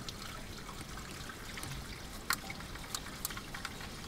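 Water from a laundry tub spout trickles and splashes steadily while rinsing out an old Heathkit HX-1681 radio chassis, with a few sharper drips and splats near the end.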